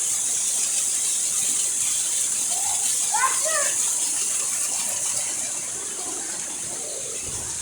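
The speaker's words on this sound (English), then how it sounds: "By the waterfall." Middleham Falls in Dominica roars as a steady broadband rush of falling water, loud and constant, while children and an adult talk over it.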